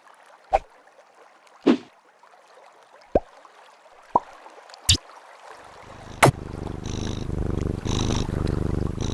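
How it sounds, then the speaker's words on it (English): Sharp clicks and knocks punctuate quiet stretches, then a cat's low continuous rumbling purr swells and holds steady, close by. "Oh, my cat's purring."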